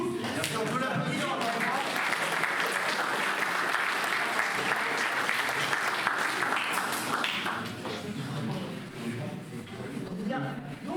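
Audience at a festival ceremony applauding warmly, a dense sustained clapping that carries on for several seconds before easing, with scattered voices mixed in.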